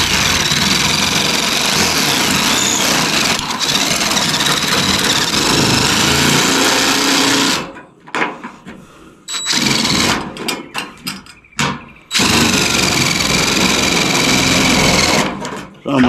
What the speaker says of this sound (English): I got a new gadget, hooks right to my drill,